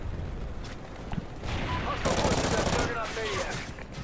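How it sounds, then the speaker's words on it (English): Gunfire from an opposing player in Call of Duty: Ghosts, dense rapid automatic bursts swelling louder midway and then easing, with a voice talking over the shooting. "Well, there's another guy shooting"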